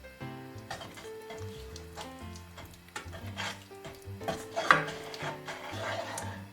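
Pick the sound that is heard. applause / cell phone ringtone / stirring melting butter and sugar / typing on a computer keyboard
stirring melting butter and sugar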